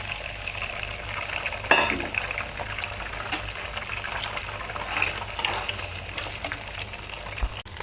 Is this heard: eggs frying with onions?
yes